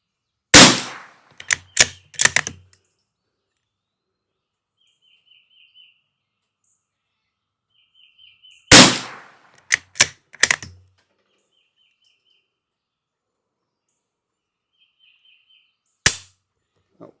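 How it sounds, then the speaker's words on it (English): A Savage Mkii FV-SR rifle fires three separate shots spread far apart, each a sharp, loud crack with short echoes and clatter, and faint chirps in the quiet gaps between. "when you first start shooting it, after it's gotten cold, it takes 4 or 5 rounds for it to tighten up."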